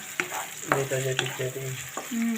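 Food sizzles and fries in a pan while being stirred, with a few scraping strokes of the spoon and a steady crackle throughout, close and moderately loud, with no talking.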